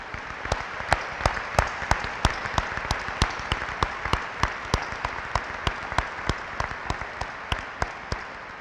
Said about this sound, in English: Please join me in giving me a round of applause and thanking them for letting us share their day as well.